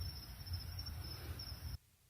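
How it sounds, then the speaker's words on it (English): Crickets chirp in a steady, high, pulsing trill over faint low background hum, heard alone at a soft level and cutting off abruptly near the end. "I hear crickets."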